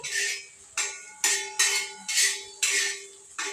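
A metal spoon stirs chilli powder into bitter gourd frying in a pan, giving about seven crisp, clanking scrapes in a steady, uneven rhythm, close by and moderately quiet with no talking.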